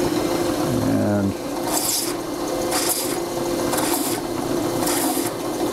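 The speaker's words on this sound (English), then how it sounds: "I'm going to clamp this down right about there, fire up the drill press" A drill press fitted with a plug cutter bores into acrylic set into wood for an art clock, giving a steady whirring grind with a rhythmic pulsing rasp; a brief word is spoken near the start.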